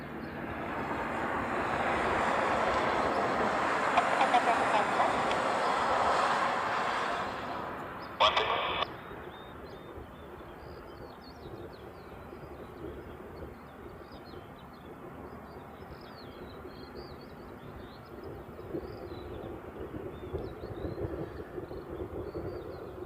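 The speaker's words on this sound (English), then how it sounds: "This is a Japan Air Dreamliner coming in from Tokyo." A Japan Airlines Boeing 787 Dreamliner arriving from Tokyo at Honolulu airport passes with a loud jet roar that swells and then fades within about eight seconds, leaving wind and quiet airport ambience with faint voices.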